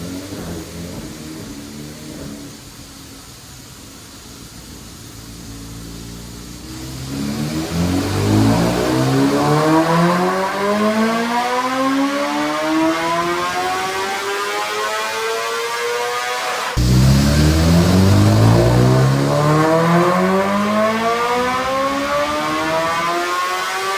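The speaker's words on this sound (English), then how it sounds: "Diego, our dealer in San Diego, California, we have the 25RR strapped down the dyno. We're going to see what she does now on just pump gas with our Stage 2 OTS" A 2025 BMW S1000RR superbike with a Stage 2 off-the-shelf tune and bolt-ons, running on pump gas while strapped to a dyno, revs in long rising pulls, its loud engine note climbing steadily in pitch across two full runs with a brief drop between them.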